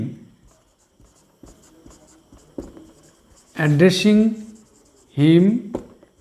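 A pen writes on paper with soft, short scratches in the near quiet, and a person talks in two bursts between the strokes.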